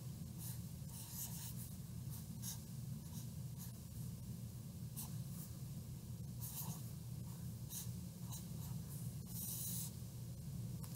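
Pen or pencil writing fraction problems on paper, soft scratchy strokes in short irregular bursts, close and faint over a steady low hum.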